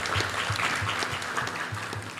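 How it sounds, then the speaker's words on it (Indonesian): Audience applause for Pak Mukhtarudin at a graphic designer training session in Palangka Raya, a short burst of brisk, close clapping from a room of attendees. "Jadi tepuk tangan dulu buat Pak Mutarudin."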